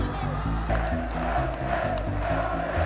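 A huge crowd of about 100,000 Romanians, a loud, dense mass of voices booing and chanting in a steady pulsing rhythm, filling the whole stretch without pause.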